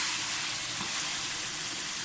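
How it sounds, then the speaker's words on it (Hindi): Steady sizzle of mutton frying in a pan for a salty Peshawari namkeen gosht, a continuous close hiss with no pauses or talk. "इसको इस हद तक फ्राई करेंगे आपको गोश्त जो है उसका कलर चेंज हो जाए।"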